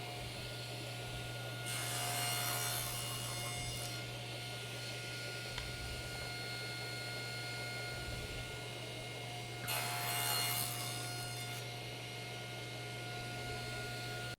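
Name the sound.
saw cutting wood miters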